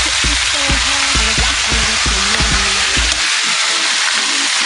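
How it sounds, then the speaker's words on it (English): Meat fries loudly in a hot pan with garlic, a dense continuous sizzle broken by rhythmic scraping and clatter as it is stirred, close up before the stirring stops and the hiss carries on alone. "Go ahead and add our meat, start stirring that"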